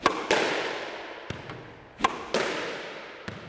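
A squash ball is driven at medium pace on a court, sharp echoing smacks off racket and wall with ringing reverberation, a few hits spaced about a second apart with lighter taps between.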